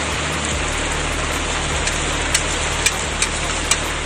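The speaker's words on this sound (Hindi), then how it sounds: "बारिश ने स्पीड पकड़ ली" Heavy monsoon rain pours down in Karachi as a dense, even hiss of falling water, loud and constant, with a few sharper drop impacts standing out near the end.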